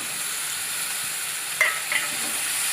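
Chopped tomatoes tip into a hot frying pan of onion masala being cooked for an egg omelette curry, giving a steady, even sizzle with a couple of faint spoon scrapes partway through.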